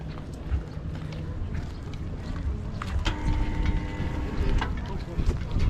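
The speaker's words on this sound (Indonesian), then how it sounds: "jom kita lihat cara speedboat naik dulu" A speedboat on open water near Batam gives a continuous low rumble mixed with wind buffeting, steady and moderately close while people talk nearby.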